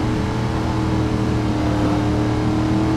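A 1986 Camaro Z28 roars downhill at high speed in Driver San Francisco, a loud, sustained engine drone holding steady throughout with no talking.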